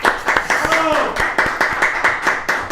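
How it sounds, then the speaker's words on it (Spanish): An audience claps rhythmically and steadily, fairly close and loud, to welcome a Supreme Court justice to an event, with a voice talking over the clapping. "a quien recibimos con un fuerte aplauso"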